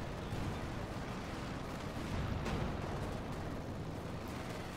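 Air support strike explosions in the WWII strategy game Company of Heroes 2, a dense continuous barrage of rumbling blasts and gunfire held at steady loudness throughout, with a slightly heavier swell near the middle.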